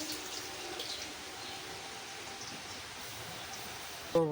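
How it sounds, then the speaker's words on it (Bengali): Rain falling steadily outdoors, a soft, even hiss of drops that holds at a constant level throughout, with a brief louder knock near the end. "আবার দেখো বৃষ্টি শুরু হয়ে গেল এবার মনে হয় জোরে বৃষ্টি আসবে"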